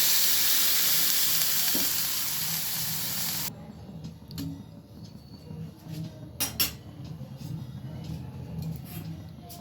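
Green chili and mustard paste with water hits a hot pan, giving a loud, steady sizzle for a few seconds that abruptly drops to quieter bubbling with clinks of a utensil stirring against the pan.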